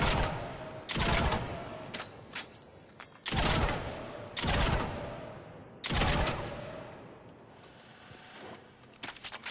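Incisor three-shot burst rifle firing in Mass Effect 3, loud sharp bursts repeating every second or two, each one ringing off into a decaying tail, with no talking.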